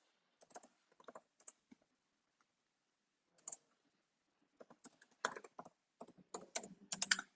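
Someone types an email address on a computer keyboard, with scattered single clicks followed by quick runs of crisp, close keystrokes in a quiet room.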